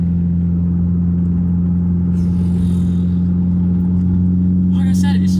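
Renault Clio RS 172 engine winding up toward 5,000 RPM, a loud steady droning hum inside the cabin with a strong low tone, while a voice talks over it.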